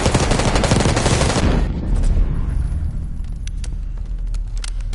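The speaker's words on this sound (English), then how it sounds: "You hearing gunfire?" Heavy automatic gunfire from Call of Duty Black Ops 6 rattles loud and continuous for over a second, then gives way to scattered distant shots and rumble in the game's battle.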